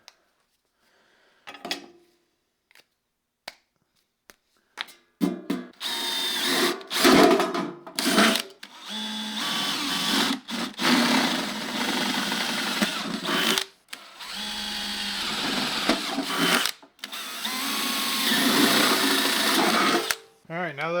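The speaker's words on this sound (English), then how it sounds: "I got those drilled, I can go ahead and mark these holes." Holes drilled in a workshop during a glow plug job on a Kubota: a few faint clicks give way to long, loud stretches of whirring drill noise, stopping and restarting several times.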